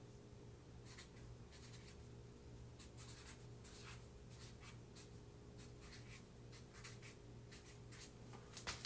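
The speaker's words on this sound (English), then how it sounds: "I might just write it out" Pen or pencil writing out notes by hand, a soft, steady run of short scratching strokes in irregular bursts, close and quiet over a low constant hum.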